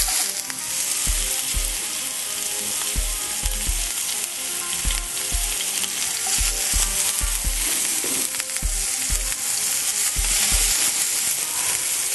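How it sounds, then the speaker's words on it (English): Onions frying in a pan for a vegetable side dish, a loud continuous sizzle with scattered crackles and occasional stirring knocks throughout. "We're going to use the same pan to cook our veggies. First thing we do, start with the onions."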